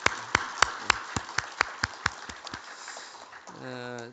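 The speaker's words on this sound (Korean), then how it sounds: "박수 한번 하겠습니다." Church congregation at an afternoon service claps in unison, about ten sharp, evenly spaced claps at a steady beat, then a voice starts speaking at the end.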